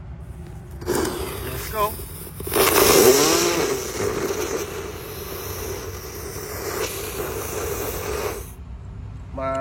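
A Galaxy Super three-colour firework lit in a hole in the ground gives a rough hissing, crackling burst with whistling tones, loud for several seconds before cutting off, while a voice speaks briefly.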